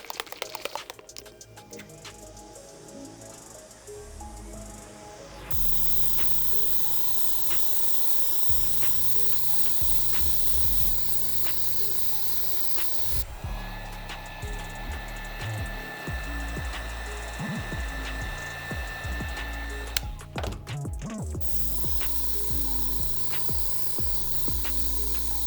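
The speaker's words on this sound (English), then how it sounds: "let's lay down some white paint with the airbrush" An airbrush sprays white paint onto a taped-up Air Jordan 13 sneaker during a restoration, giving a steady close hiss in long continuous bursts with short pauses between passes and no talking.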